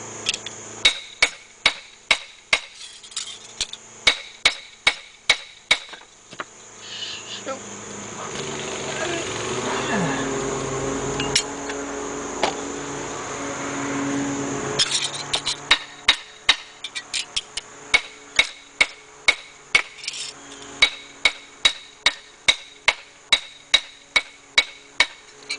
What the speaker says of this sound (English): persuasion with a really big butt hammer